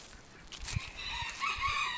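Small chickens cluck and crow in a few short bursts near a backyard beehive, their calls rising over a soft outdoor background with brief low thumps.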